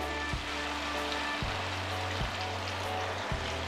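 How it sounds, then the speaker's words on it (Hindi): Water is poured into fried chicken in a cooking pan, giving a steady watery hiss and sizzle over a low hum. A few soft knocks fall at intervals, and no one speaks. "चिकन में मैं 1 कप पानी डाल रही हूँ"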